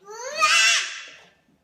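A baby shrieks in a home kitchen while gluten-free bread is being made: one loud, rising, babbling squeal of under two seconds, close by, with no talking over it.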